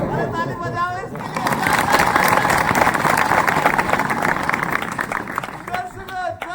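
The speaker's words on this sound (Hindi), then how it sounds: "अरे ताली बजाओ इसके" Clapping from a group of people for a student swells into steady applause through the middle, mixed with crowd chatter. A voice speaks briefly at the start and again at the end.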